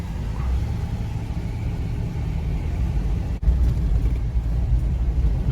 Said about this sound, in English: I'll just do a quick drive up the road